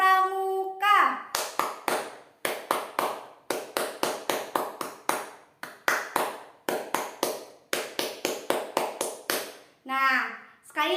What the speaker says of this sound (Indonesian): tepuk pramuka dengan cara 2 kali